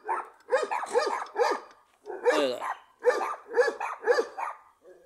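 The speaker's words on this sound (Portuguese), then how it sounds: "escutem a barulheira de cadela aqui do lado latindo" Several dogs bark in loud, close bursts next to a parked Kia Besta van, the yaps coming in quick clusters with short gaps. A voice says a couple of words near the end.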